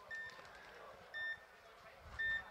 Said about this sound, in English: Well, it looks like Tontons hits the buzzer.